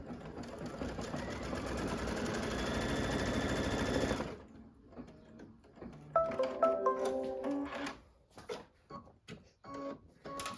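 A sewing machine stitches fabric in a fast, continuous mechanical whir for about four seconds, then stops. Scattered clicks and light handling of fabric follow.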